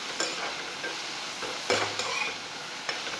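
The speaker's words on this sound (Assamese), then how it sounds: "এতিয়া ইয়াতে কাটি থোৱা তৰৈখিনি দি দিম।" Chopped ridge gourd sizzles in hot oil with panch phoron in a pan, a soft, steady frying hiss broken by scraping stirs and light clinks of the spatula, heard close and without speech.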